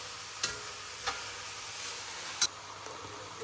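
Carrots roasting in ghee for carrot halwa give a soft, steady sizzle close by, broken by a few faint clicks of stirring, quiet and without talk.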